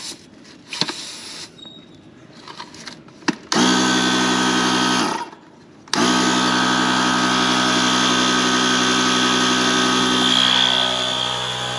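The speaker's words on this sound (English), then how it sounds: "got my handy dandy battery powered tire blower upper" A battery-powered tire inflator runs loud and steady while airing up a flat trailer tire, with a droning motor hum broken by a brief pause before it starts again and continues.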